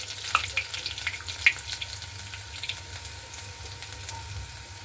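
Small crushed garlic cloves fry in a pan, giving a steady, fairly faint sizzle with a couple of sharp crackles and light metallic clinks near the start.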